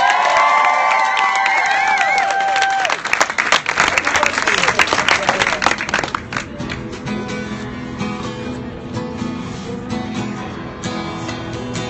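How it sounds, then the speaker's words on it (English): A crowd at a concert held at a gas station breaks into loud applause, cheering and whoops that swell and then fade into scattered clapping and chatter. "the largest gas station applause I've ever heard."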